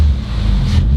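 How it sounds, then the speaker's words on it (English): A 2019 Audi RS5 engine idling with no muffler, a loud, steady, deep rumble close by with no speech over it. "Sounds hecka good with no muffler"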